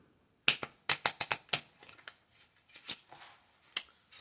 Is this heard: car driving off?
no